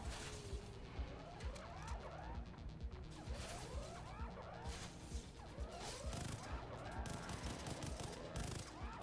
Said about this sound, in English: Oh, it's a burst rifle?